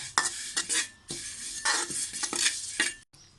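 White and black sesame seeds are dry-roasted in a pan for an old-style Thai honeycomb cake, with quick rhythmic scraping strokes of a utensil over faint crackling, close and brief, no talking.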